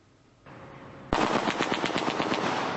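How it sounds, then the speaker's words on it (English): A rapid burst of automatic gunfire in Tripoli, Libya, a string of quick sharp shots in fast rhythm, fairly loud and echoing, with no talking. "there's just been a blast of gunfire, which you heard behind me here in the capital city"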